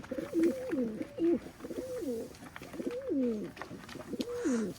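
Several pigeons coo in repeated soft, rolling phrases close by while being fed, with a few rustles between the calls.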